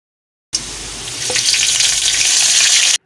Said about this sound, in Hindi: और अब हम ये तड़का ऐड कर देंगे।